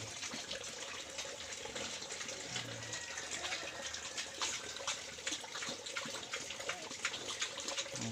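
A tap runs into a container as it fills, a steady, close, gushing stream that holds even throughout, somewhat weak in pressure, with no talk over it.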